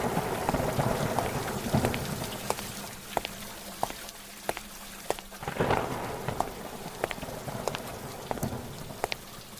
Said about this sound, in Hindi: इतनी तेज बारिश है कि कहीं जा भी नहीं सकते।